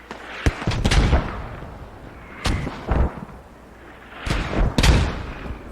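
Mortar rounds landing in a Squad match, Insurgent side firing: three clusters of deep, booming impacts spaced a couple of seconds apart, each a sharp crack followed by a rumbling tail, fairly loud against a steady battlefield background.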